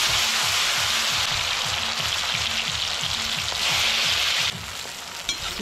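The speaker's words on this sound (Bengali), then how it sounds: "উচ্ছেটা ভাজছি আগে, তার মানে ভেবো না তেলটা তেতো হয়ে যাবে" Bitter gourd fries in hot oil with a loud, dense, continuous crackling sizzle close up, easing slightly near the end. No one speaks.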